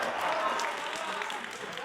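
An audience claps at a comedy show during a World Urdu Conference at Jamia Millia Islamia, giving a brief, dense burst of applause with a voice mixed in.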